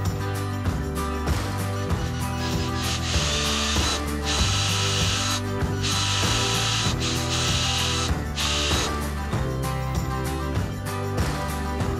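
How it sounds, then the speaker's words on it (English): A power drill drives small wood screws into a wood block, countersinking them while fitting a soft-close stop to Freedom Clamp barn door hardware; the motor whirs steadily in repeated bursts, loud and close, with no talking. "I have some small little wood screws, and just countersink those into the wood block"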